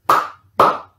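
Two sharp hand claps about half a second apart, each loud and close with a short ringing tail in a quiet room.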